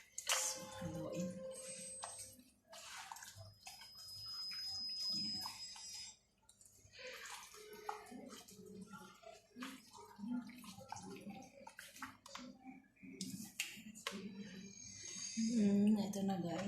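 Chicken kabsa marinade being mixed with the chicken, giving wet squishing and slapping sounds in a steady, busy stream over several seconds, close up.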